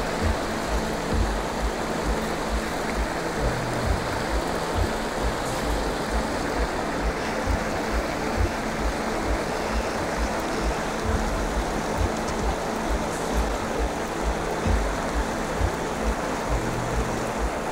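A waterfall on a canal rushes in a steady, loud, unbroken roar of churning water that holds throughout.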